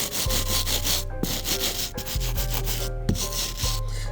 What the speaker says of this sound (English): I'll go ahead and grab the stiff bristle brush.